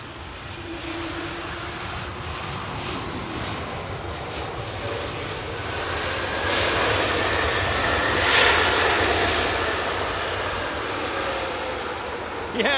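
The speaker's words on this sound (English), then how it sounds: "these little Pratt & Whitney PW 1700G engines can make a bit of a noise." Steady, loud jet roar from an airliner with Pratt & Whitney PW1700G engines at London Heathrow, building to a peak about two-thirds through before easing slightly, broad rumbling noise throughout with no talk.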